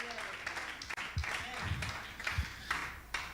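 A church congregation claps in a steady, dense wash of applause, with a preacher's voice talking over it.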